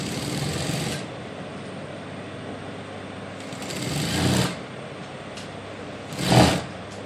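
A sewing machine stitches piping onto fabric in three short runs, a close buzzing whir that starts, stops and starts again with quieter pauses between, each burst louder at its end.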